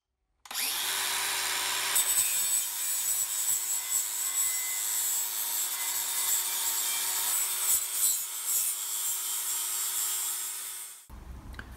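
Angle grinder ground back across the welds on a fabricated metal drill press belt cover, one continuous loud abrasive whine with a steady motor tone that runs unbroken for about ten seconds before spinning down and stopping.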